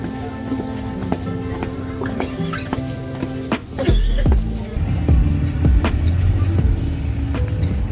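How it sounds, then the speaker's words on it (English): Jeeps sit in a traffic jam descending Mount Bromo, with engines idling and rumbling nearby amid scattered clanks and thumps. Voices are audible in the background. "Jeep traffic jam down the mountain."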